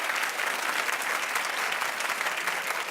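Studio audience at a celebrity gossip talk show clapping steadily, a dense, even wash of applause sustained throughout without a break.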